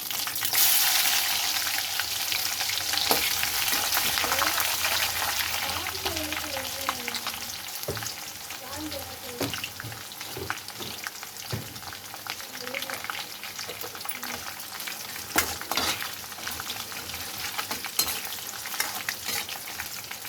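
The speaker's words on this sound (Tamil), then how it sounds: "நல்லா வதங்கட்டும். பச்சை மிளகாய் நல்லா பொரியணும்." Dried red chillies, garlic and chana dal fry in oil for a temple-style puliyotharai tempering, giving a continuous close sizzle broken by scraping stir clicks and occasional sharp crackles.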